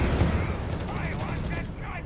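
Tank gunfire hits a Sherman in the Company of Heroes 3 video game, a dense rumble of shots and impacts under a voice talking over the battle.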